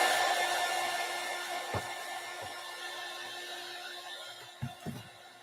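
A hair dryer blowing steadily to dry craft paint on a door hanger, a constant whirring hum held close, with a few soft knocks and handling bumps along the way.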